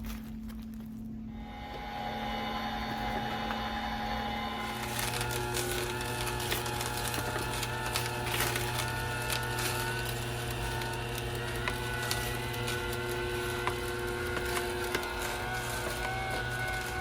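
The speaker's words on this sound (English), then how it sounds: "we're going to juice some celery" A Larinest cold press juicer crushing celery, a steady mechanical whirring drone with layered motor hum and tonal whine, running continuously and close with no talk.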